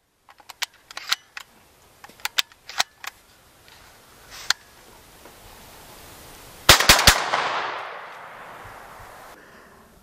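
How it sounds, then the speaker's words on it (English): Sharp, loud shotgun blasts from Beretta A300 Outlander semi-automatic shotguns fired outdoors: a scattered string of separate reports, then a quick cluster of heavy shots that trail off into a lingering echo. "we were actually out shooting these the other day. We've got some footage of that"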